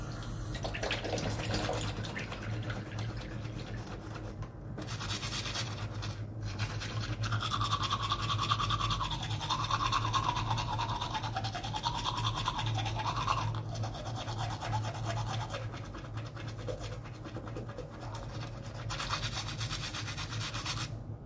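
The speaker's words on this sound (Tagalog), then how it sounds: "So mag-toothbrush ka guys, no?" A toothbrush scrubs teeth fitted with braces in a steady, close rubbing rhythm, with faint water and bathroom sounds underneath and no talking.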